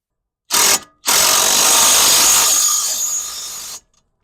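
Power tool tightening a bolt on a coilover of a 2003 VW Golf MKIV, a short loud burst followed by a longer sustained whirring run of about three seconds, up close.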